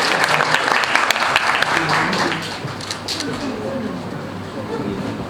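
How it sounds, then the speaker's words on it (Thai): Applause from a concert audience for a young pianist named Prim at a student piano recital, dense clapping loudest at the start and easing to a steadier patter, with some talk mixed in. "ขอเสียงปรบมือเป็นกำลังใจ"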